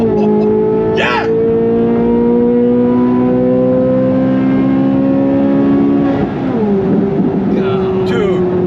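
Corvette launching hard, its engine note climbing steadily as it accelerates, loud and close, with a gear change partway through and excited voices over it.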